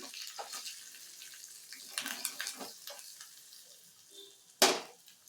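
Asafoetida tempering for an amla (usirikaya) chutney sizzles softly in a pan with light stirring scrapes, then a sharp loud spitting burst near the end before settling.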